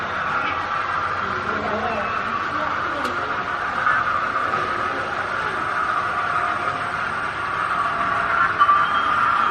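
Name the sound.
Hornby model railway train running, Flying Scotsman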